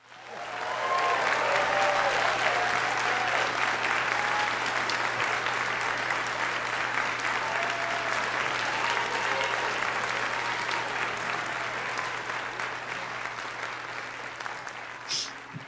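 Audience applause at a play reading of short plays on a video call, a steady wash of clapping that rises quickly and holds for about fifteen seconds before slowly thinning out, with a low constant hum underneath.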